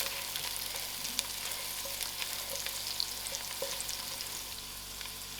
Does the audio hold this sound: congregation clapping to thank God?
no